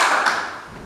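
A group of students claps once in a classroom clapping game, a brief, close, loud burst of hands that quickly fades.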